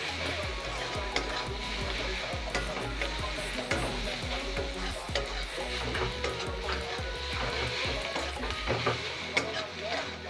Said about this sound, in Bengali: এবার হলুদটাকে নেড়ে নেবো যাতে হলুদের গন্ধটা চলে যায়